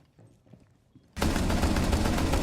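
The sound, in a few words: gunfire in Rainbow Six Siege video game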